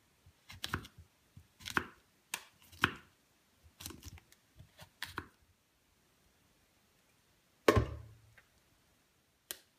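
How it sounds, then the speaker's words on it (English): A knife slicing mushrooms on a cutting board, soft irregular chops in short clusters with gaps between, close and quiet, ending with a single firmer knock. "So now I'm gonna move on to the mushrooms and just slice them up and then put them in a pan."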